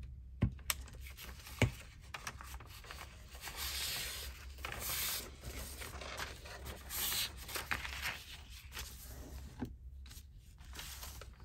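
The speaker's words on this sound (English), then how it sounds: "Just trimming off the glue bits." Paper pages for a handmade botanical journal being trimmed to remove glue bits, giving soft, close scraping and snipping sounds in irregular bursts with a few sharper clicks, no talking.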